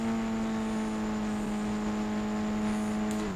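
A sports car engine drones at a high, steady pitch as it speeds along in a driving video game, a loud sustained whine that holds nearly constant throughout.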